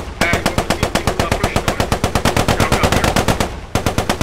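Coaxial machine gun on a Cromwell tank in the World War 2 game Post Scriptum firing long, steady bursts of rapid, evenly spaced shots, loud and close, with a brief pause before a final burst.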